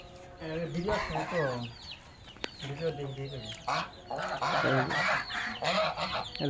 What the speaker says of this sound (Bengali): এই দুইটা রাজহাঁস